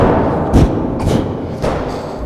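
Explosive slam strikes during a club training session land as three heavy, close thuds spaced roughly half a second apart, with no talk over them.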